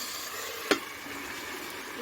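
Vegetables frying in a pan give a soft, steady sizzle close by, with one sharp clack of a utensil against the pan partway through.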